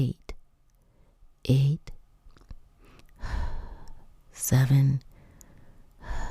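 A person exhales slowly through an open mouth during a breathing exercise, producing soft, breathy rushes of air between short bursts of a voice counting aloud.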